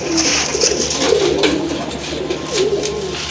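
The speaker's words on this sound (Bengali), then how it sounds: "এটা রেসার পিজন আর্মি কবুতর।" Racer pigeons, also called army pigeons, coo steadily in a loft: soft, low, rolling coos repeating over continuous background noise, close and fairly loud, with no talk.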